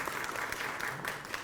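Audience clapping at an Arya Samaj annual celebration in Punjabi Bagh, a brief dense patter of many hands, steady and moderately loud throughout.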